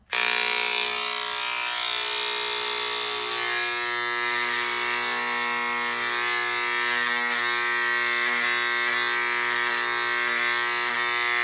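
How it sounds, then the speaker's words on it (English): Electric hair clippers with no guard cutting hair, a loud, steady buzzing whine that starts abruptly and runs continuously, with slight changes in tone as the blades move through the hair. "I'm going to lift with my fingers, no guard, and just clip away the top."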